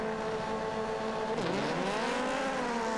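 Aussie Racing Cars roaring off the grid together at a race start at Phillip Island, a dense, loud pack of engines with one rising then dipping sweep midway, no voices over it.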